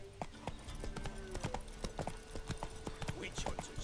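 Horse hooves clip-clop at a steady trotting rhythm in The Witcher 3 video game, close and fairly loud, with faint game voices and ambience underneath.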